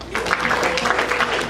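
Audience in a comedy club claps in a short, brisk burst of applause at close range, the dense patter of hands holding steady for a moment.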